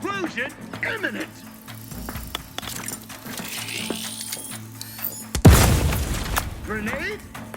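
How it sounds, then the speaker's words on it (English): A loud explosion bursts in the video game The Outer Worlds 2, a sudden broadband blast followed by a rumbling decay, rising over a busy mix of game effects and speech. "Explosion imminent!"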